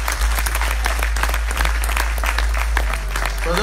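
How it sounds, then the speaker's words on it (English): A church congregation applauds after a prayer at a Sunday service, steady dense clapping filling the room, with a voice faintly audible over the applause. "Let's give him a round of applause."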